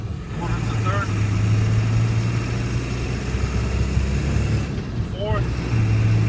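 Cabin drone of a 2002 Ford F350 extended cab with the 7.3 diesel and six-speed manual, driving and shifting gears: a steady low engine hum throughout with a brief pitch change near the end, and a voice talking over it.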